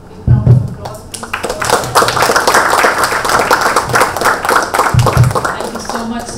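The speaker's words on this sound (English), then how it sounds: "could we have a big round of applause, please?" An audience at a consumer marketing talk breaks into a sustained round of applause, with dense clapping lasting several seconds and brief voices rising near the start and end.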